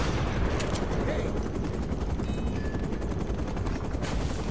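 Gunfire from the video game Uncharted crackles in rapid bursts over a busy battle din, with a voice speaking underneath.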